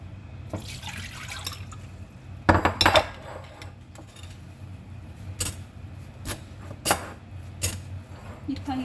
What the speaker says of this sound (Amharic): እንደዚህ ስትጨምቁ ራሱ ውሃው ጭምቅ እያለ ይወጣል ማለት ነው።